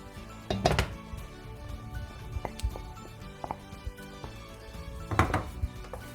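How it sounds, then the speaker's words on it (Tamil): Semolina (rava) stirred in a pan with butter for rava kesari, with scattered scraping and clanking of a spoon against the pan, a few louder knocks among quieter taps. "ரவையை சேர்த்துட்டு இப்படி கிண்டிட்டு மிச்சமாக இருக்கிற பட்டரையும் போடணும்"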